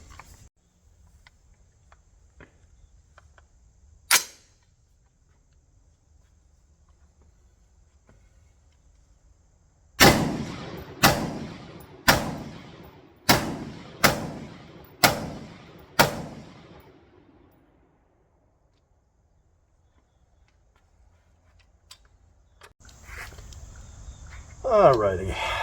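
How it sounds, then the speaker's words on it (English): CMMG BR4 rifle fired outdoors, one sharp shot and then a string of six loud, evenly spaced reports with ringing tails. Faint ambient noise comes before and after the shots. "So we're going to start shooting this"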